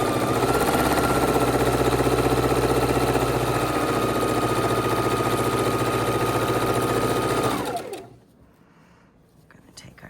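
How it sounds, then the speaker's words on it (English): A sewing machine stitches quilt pinwheel blocks together, its steady, rapid mechanical whir holding loud and close for several seconds before stopping abruptly into near quiet. "we are going to start sewing together our pinwheels"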